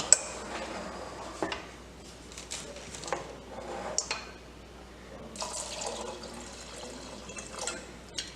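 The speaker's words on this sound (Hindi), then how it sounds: "पानी हम इसमें और डालेंगे" Water poured into a metal pressure cooker with splashing and trickling, punctuated by light clinks of cookware, fairly quiet and close.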